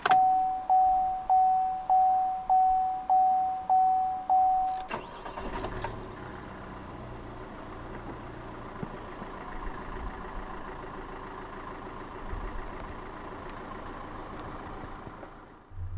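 A 2014 Vauxhall Mokka 1.7 CDTi diesel, 4x4 SE, is keyed over with a chime beeping steadily, then the engine cranks, catches and settles into a steady, clattery diesel idle close by.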